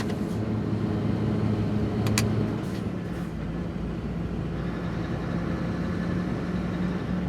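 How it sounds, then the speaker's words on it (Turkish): A truck engine idles in an older trucking video game, giving a continuous low mechanical rumble that stays close and level, with a brief brighter rattle partway through. "Bu arada motor sesini hak ettiniz."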